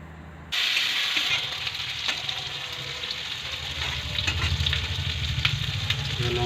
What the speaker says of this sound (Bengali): টমেটোটা যতক্ষণ না পুরোপুরি ফ্রাই হচ্ছে